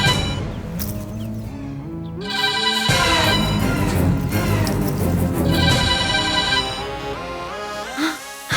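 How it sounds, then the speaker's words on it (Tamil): A mobile phone ringtone for an incoming call plays a repeating melodic pattern, loud and close, for several seconds in a Tamil television serial scene. "கால் வந்துட்டே இருக்கு."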